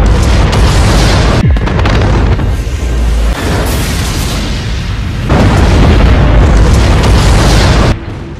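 A massive supervolcanic eruption, the Toba explosion, rendered as deep, very loud booming blasts and rumbling roars in waves, with sharp cut-offs between bursts.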